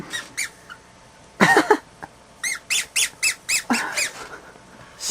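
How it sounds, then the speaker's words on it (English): A rabbit squeaking in short high bursts, one pair early and then a rapid run of about seven evenly spaced squeaks, close and clear against a quiet background. "squeaked the Chinese rabbit in agreement"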